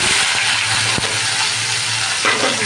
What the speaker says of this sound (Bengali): এবার এগুলো ভালো করে আমি ভাজা হতে দেবো